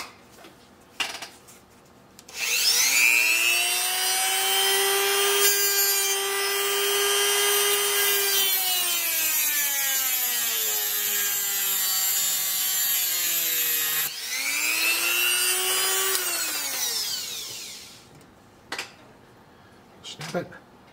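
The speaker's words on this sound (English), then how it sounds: "Dremel tool." A Dremel rotary tool works on a small steam engine part, giving a loud, steady high-pitched whine that rises, dips under load, stops briefly and spins up again for a second long run before winding down.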